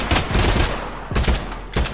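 Rapid gunfire from a first-person shooter, Warzone played in virtual reality, comes in loud bursts with short gaps between them, crackling close up and alone.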